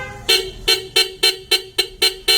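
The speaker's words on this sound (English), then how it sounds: "Now let's honk and see how this horn looks like." Hella S90 dual horns fitted to a motorcycle honk in eight short, evenly spaced toots, loud and close with no other sound.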